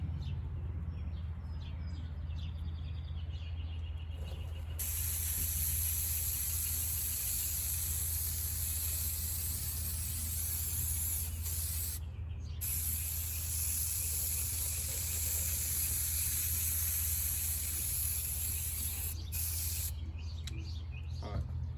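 A steady, loud hiss from a can of spray adhesive spraying continuously for several seconds, broken by a few short pauses, with no talking.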